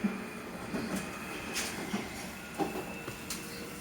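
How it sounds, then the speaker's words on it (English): A London Underground Jubilee line train at Wembley Park runs toward Stanmore, a steady rumble with intermittent clicks and brief bursts of wheel noise as carriages pass, moderately distant with no talking. "That there is a Jubilee line train to Stanmore."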